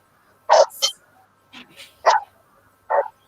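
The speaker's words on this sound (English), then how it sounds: "What's he barking at?" A dog barks in short bursts, about five sharp barks spaced irregularly, fairly close with a quiet background between them.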